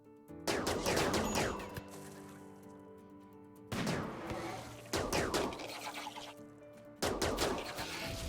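Charge rifle fire during a raid in the RimWorld video game, arriving as four separate bursts of rapid sci-fi gunfire, each sharp at onset and decaying over a second or two, at moderate loudness.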